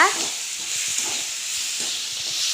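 A spoon stirring carrot and beans poriyal in a hot pan, with a steady frying sizzle and soft repeated scraping strokes, close and fairly loud, no talking.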